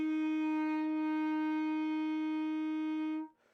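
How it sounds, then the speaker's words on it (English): A single sustained clarinet F, fingered with the left thumb covering the back hole, held steady and clear for about three seconds before stopping, played alone. "F sounds like this."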